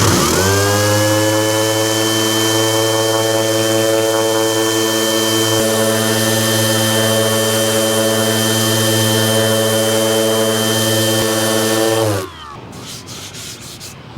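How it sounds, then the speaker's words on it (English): EVERGRADE RGX Pro 316 cordless 16V six-inch dual action sander with 80 grit paper roughs up a surface, spinning up into a loud, steady whirring grind held for about twelve seconds, then cutting off abruptly with some handling noise. "This is taking it down very fast, and nothing built up on the sanding pad."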